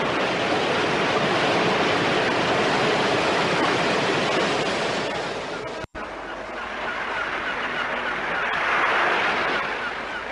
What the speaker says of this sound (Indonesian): ombak itu kemudian naik jauh ke tengah daratan, mengejar seluruh anak murid dari perguruan Tangkuban Perahu